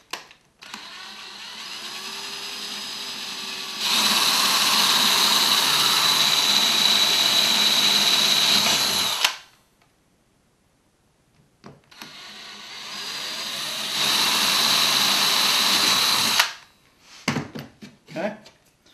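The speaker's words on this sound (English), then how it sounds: "I'm just going to get a drill, right? And I'm just going to go ahead and drill these holes" A power drill bores holes into a router table in a workshop, with two sustained loud whirring runs of several seconds each, separated by a short pause and followed by a few clunks.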